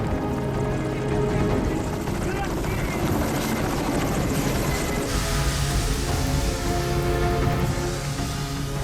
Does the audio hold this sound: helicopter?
yes